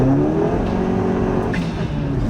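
A Ford Focus RS Mk1, a 280 hp hot hatch, drones with a loud, steady engine note while driving, heard from inside the car with no pauses.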